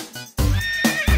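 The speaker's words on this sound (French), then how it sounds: "Un cheval qui hennissait en se cabrant." A horse neighs loudly in a few strong, whinnying bursts, close and clear with no talking.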